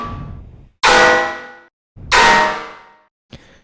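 Tearout gun bass synth hits, two loud metallic clanging blasts that decay over about a second, followed by a short quieter stab, with no voices.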